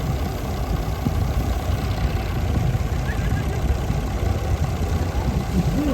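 A steam traction engine runs steadily nearby at a steam show parade, its low rumbling and chuffing continuous and fairly loud throughout, with no clear talk.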